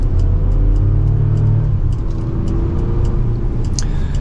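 A Chevrolet Colorado ZR2 Bison pickup truck engine revs and accelerates with a deep, steady rumble, loud and close, holding its drone throughout.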